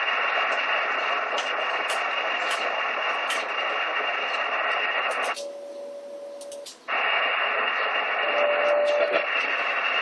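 A continuous hissy band of amateur radio receiver noise from a moonbounce station fills the air, briefly dropping out as a thin steady tone cuts in, then the noise returns with another faint echo tone near the end.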